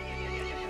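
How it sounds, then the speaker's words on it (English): A horse in the Resident Evil Village video game neighs sharply over a steady droning game soundscape, a single short, loud whinny. "The horse grew angry and summoned the other monsters."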